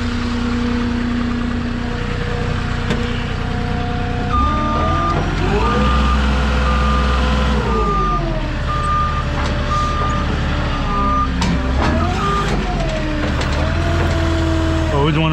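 A heavy machine backs up onto a trailer while its reversing alarm beeps steadily. The diesel engine drones and shifts pitch underneath, all loud and close.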